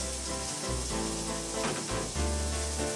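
Onions dropped into a hot pan sizzle and crackle steadily, a close, dense frying hiss that lasts throughout with slight surges.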